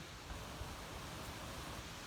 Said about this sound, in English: it's a breezy day today, very windy